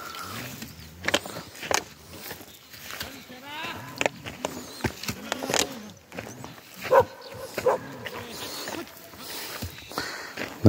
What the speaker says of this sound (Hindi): देखो कुत्ता आगे जाएगा, ये हमारे आगे जाएगा और रास्ता बताएगा